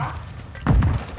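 A grenade lands in a Call of Duty multiplayer match, a single dull thump partway through following a quieter stretch of game ambience.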